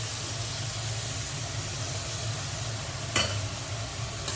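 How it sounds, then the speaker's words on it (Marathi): Boiled green bean vegetables tipped into a hot pan and stirred, giving a steady close sizzle with a short clatter of stirring partway through. "आता ही उकळून मिरवून घेतलेली भाजी घालून"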